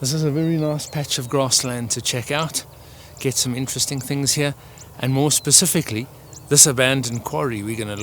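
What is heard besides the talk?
No everyday noises stand out.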